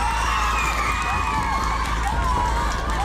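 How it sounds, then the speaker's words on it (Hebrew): A sixth-grade class at a school in Rishon LeZion cheers for a classmate, a steady, loud wash of children's shouts and whoops lasting the whole stretch. "יאללה, תעודדו את דור"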